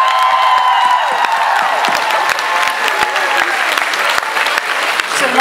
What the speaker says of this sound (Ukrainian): Під бурхливі овації!